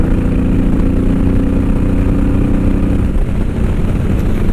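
A Honda VTX1800 cruiser motorcycle engine drones at a steady 4,000 RPM at highway speed, a loud continuous roar mixed with wind rush.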